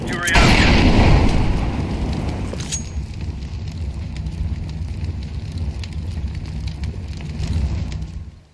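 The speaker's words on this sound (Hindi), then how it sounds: "चिकन को लेना है और उसके ऊपर मॉली कर देनी है" A Molotov fire bursts and keeps burning over a chicken in Counter-Strike 2, a loud whooshing ignition followed by a steady crackling roar of flames, with someone talking over it.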